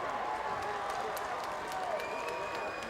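Faint, distant applause and clapping from the crowd at the 2010 Men's Little 500 bicycle race, a soft continuous patter with a voice faintly audible underneath.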